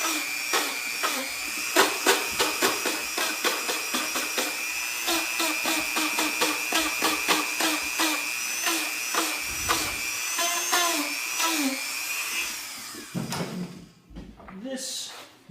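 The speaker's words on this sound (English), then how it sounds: "we use a Dremel tool to kind of chamfer the edges to kind of round them" A Dremel rotary tool chamfers and rounds the edges of a Kydex holster, giving a steady high-pitched whine broken by rapid scraping bursts as the bit catches the plastic edge. The grinding sounds close, loud and continuous, then winds down near the end.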